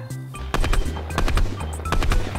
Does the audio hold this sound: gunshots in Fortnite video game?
yes